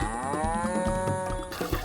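A cow on a small Ugandan farm gives one long, loud, close moo with a rich droning tone, holding for nearly two seconds over faint farmyard background.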